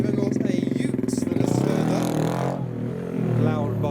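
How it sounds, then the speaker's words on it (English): Loud motorcycles revving and rumbling at a large car meet, their engine drone steady and close with a brief dip midway, mixed with clatter and crowd voices talking over it. "Loud bikes"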